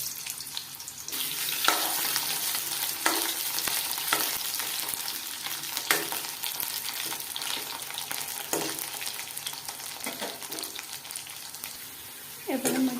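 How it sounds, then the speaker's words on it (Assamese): Potatoes fry in oil in a kadai with a steady close sizzle, broken by repeated stirring scrapes and clatter at irregular intervals, and no one speaks. "ফাৰ্ষ্ট টাইম আলুখিনি অলপ ভাজি লওঁ।"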